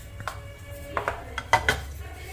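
Poppy seeds tipped from a spoon into a roasting pan for Sindhi jaggery dry-fruit laddoos, giving a few light metallic clinks and scrapes of spoon against pan at close range, quiet and without talk.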